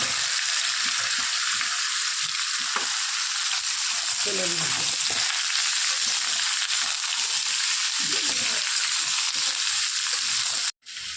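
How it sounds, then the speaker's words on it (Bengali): Whole dried red chilies and cumin seeds crackle as they fry in hot oil in a wok, a steady close sizzle running throughout with occasional stirring scrapes. "ফোড়নটা লাল হয়ে গেছে এর মধ্যে আমি কলা সব একসাথে হালকা করে ভেজে দেবো"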